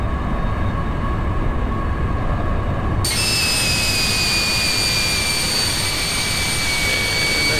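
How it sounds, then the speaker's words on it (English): Jet engines of an airliner taxiing in the X-Plane 10 flight simulator, a steady loud whine and rumble that continues throughout with no break; high tones shift upward about three seconds in as the engines spool up. "I guess we're ready to start taxiing."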